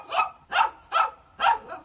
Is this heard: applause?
no